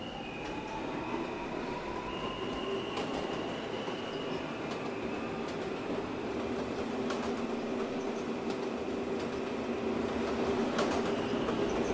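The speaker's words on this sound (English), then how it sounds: "The Union Turnpike bound E train." An R160A E train on the subway runs at speed with a continuous loud rumble, steady wheel noise and thin squealing tones rising and falling over the roar.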